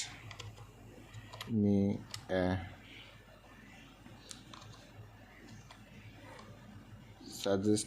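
Computer keyboard typing in a few quick bursts of clicky keystrokes, fairly close, with a voice talking between the bursts.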